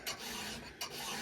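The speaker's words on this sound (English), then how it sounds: "The more consistent you are filing, down and then over." Hand file rasping across a chainsaw tooth while sharpening, two bright strokes close up, each a short gritty scrape with a steady rubbing grind between them.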